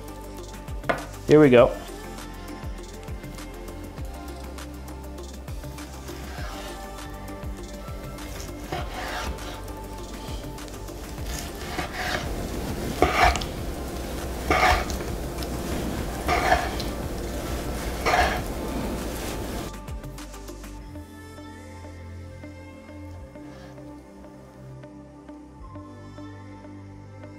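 A sharp kitchen knife slices raw salmon on a work table for tartare, giving repeated soft, close rubbing and cutting strokes over about twenty seconds, with a brief spoken phrase near the start.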